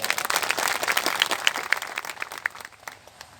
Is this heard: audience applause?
yes